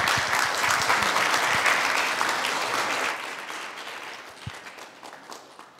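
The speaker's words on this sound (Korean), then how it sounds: "우리 박수로 모시도록 하겠습니다." A church congregation applauds to welcome a pastor to the pulpit at a worship service, a dense burst of clapping that fills the room and then thins out, with a few scattered claps lingering near the end.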